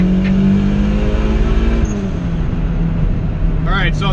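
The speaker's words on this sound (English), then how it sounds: "All right, now VTEC is on, and I'm gonna do a pull with VTEC." Turbocharged Honda B18C1 engine in an EG hatchback making a loud, sustained pull with VTEC engaged, steady droning revs that shift in pitch partway through.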